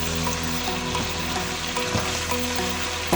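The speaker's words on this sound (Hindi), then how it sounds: "चिकन फ्राई हो रहा है।" Chicken fries in a pan for a biryani and korma style dish, giving a steady, close sizzle with bubbling and occasional stirring scrapes throughout, with no talking.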